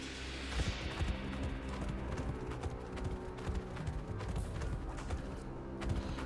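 Horse hooves in the Xenoblade Chronicles video game, a steady rhythmic clip-clop of a galloping mount continuing throughout over a low game backdrop.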